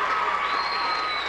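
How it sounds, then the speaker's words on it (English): Crowd at a gymnastics meet applauding and cheering after a gymnast's tumbling pass, a short burst of clapping with a faint whistle-like tone, heard at a distance in a hall. "Listen to the crowd."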